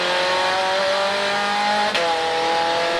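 Supercar Challenge race cars accelerate hard through a chicane, making a loud sustained engine roar with rising tones and a brief sharp shift partway through, with no talk.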